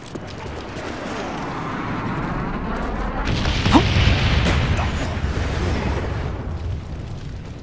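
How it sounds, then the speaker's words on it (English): Napalm strike explosions in a Call of Duty: Black Ops capture-the-flag match: a loud, sustained wash of rumbling, crackling blasts that swells midway and keeps roaring to the end. "Friendly napalm strike on the way."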